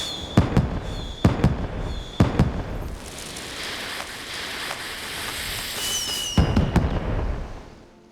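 Fireworks at the Moonfire Faire in Final Fantasy XIV: sharp pops with whistling trails come first, then a long crackling, rain-like shower of sparks, and a final cluster of bangs. The bursts are fairly close and there is no talk.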